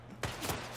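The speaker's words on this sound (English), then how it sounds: "Uh-oh. I'm gonna get shot at." Gunfire in the World's Best Assassin video game, a dense, continuous crackle of shots with loud bursts layered over one another in a brief, noisy volley.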